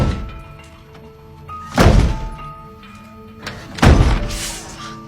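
Two heavy, loud thunks about two seconds apart as a brick is swung hard against a locked storeroom door, each impact booming and then fading.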